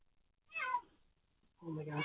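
A cat meows twice indoors, a short close meow followed by a second longer one, fairly faint, with no talk.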